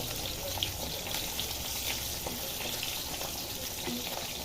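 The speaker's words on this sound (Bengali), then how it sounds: "মাছগুলি ভেজে দিই, খিচুড়ির সাথে মাছ ভাজা খেতে ভালো লাগে" Fish sizzles in a frying pan as a continuous, soft crackle and hiss, fairly quiet and with no voices.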